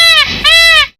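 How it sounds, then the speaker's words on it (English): A peacock gives one loud, piercing, strongly tonal call lasting about a second, with a brief dip in the middle before it swells again and cuts off sharply. "Peacock."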